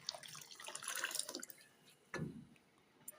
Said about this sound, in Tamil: இப்போது நம்ம பருப்பை கொட்டிடலாம்